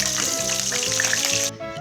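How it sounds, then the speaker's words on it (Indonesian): Pindang fish frying in hot oil, a continuous bright sizzle that crackles evenly throughout, with a low kitchen hum beneath, before it drops off abruptly near the end. "Goreng pindangnya."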